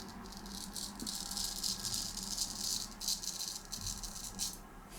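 Straight razor shaving with a C V Heljestrand MK No 32, a steady close raspy scraping of the blade over stubble that runs through the whole stretch in short strokes with no talk.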